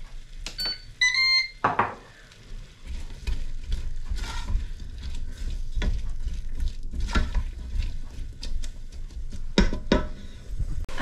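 Onion frying and being stirred in a pan as the base of a pumpkin tandoori masala curry: a steady close sizzle with scraping stirs, a few electronic beeps near the start, no talk.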